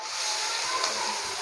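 Two medium onions, chopped, hiss and sizzle steadily in a hot pan of oil for Lahori cholay, a continuous broadband frying noise close by with no talk over it.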